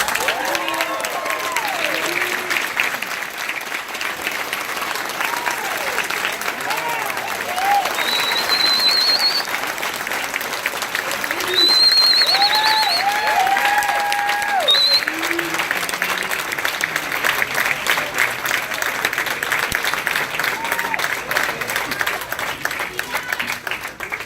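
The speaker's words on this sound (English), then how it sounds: "Once the second name is said, loud clapping and cheering." A crowd at a fire department graduation claps loudly and steadily, with cheers and a few whistles rising above the dense applause throughout.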